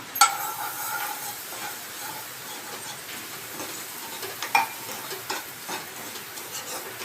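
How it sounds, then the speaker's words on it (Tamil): Semolina (rava) roasts in hot oil in a pan as a spoon stirs it, giving a soft sizzle with scraping clicks and a few sharper knocks. "எண்ணெயிலேயே ரவையை வந்து நல்லா வதக்கி விட்டுருப்போம்"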